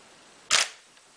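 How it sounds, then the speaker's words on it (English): A DSLR camera shutter fires once at a fast shutter speed, a single crisp, near click-clack with a quick bright snap that ends almost at once, alone in a quiet room. "Let's listen to the sound of fast shutter speed and slow shutter speed."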